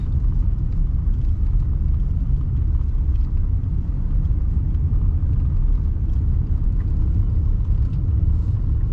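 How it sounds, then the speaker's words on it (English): A vehicle climbing slowly up a winding mountain pass at about 20 miles an hour, a steady low engine and road rumble filling the whole stretch from inside the cabin, with no talk. "Real mountain driving."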